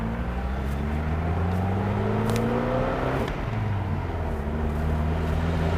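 A car with a faulty carburetor accelerates up to speed, its steady engine drone rising in pitch with gear-change dips, loud and close throughout with no talking.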